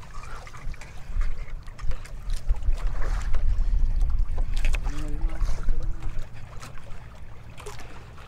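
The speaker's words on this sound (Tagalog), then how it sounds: "Mahangin dito." Wind blowing outdoors at a fishing spot, a steady rough low rumble buffeting the microphone throughout with faint water sounds, no talking.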